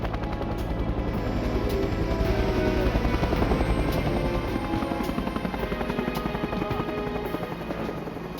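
Military helicopter taking off at night during a special forces infiltration in the Gulf War, with loud, steady rotor chop and turbine roar filling the whole stretch at close range.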